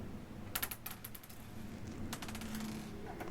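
Small metal screws clink and rattle as they are picked out of a PC case's accessory box, a run of sharp close taps early on and another cluster later, faint over a quiet room.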